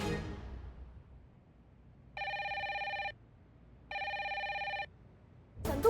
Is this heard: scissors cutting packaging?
no